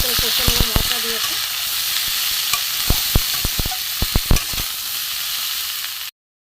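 Cumin and coriander powder fry in a pan with a steady sizzling hiss, while a spoon stirs and scrapes. Its sharp clacks come close up, in irregular bursts.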